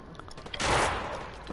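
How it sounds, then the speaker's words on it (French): Burst of video game gunfire in a first-person shooter match, a short loud volley swelling about halfway through and trailing off, following quieter scattered shots. "Attention, il y a quelqu'un qui tire dessus."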